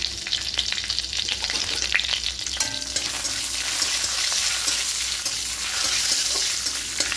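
Whole cinnamon, cardamom, cloves and bay leaves fry in a pot for a vegetarian dalia pulao, a loud, continuous close-up sizzle with faint stirring scrapes and no talking.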